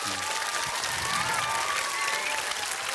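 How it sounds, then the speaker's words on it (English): An audience claps loudly for astronauts Tim Peake and Tim Kopra at a live conversation event, a dense, steady wash of applause that holds for the full three seconds with no talk over it. "can we give both these extraordinary Tims a massive round of applause?"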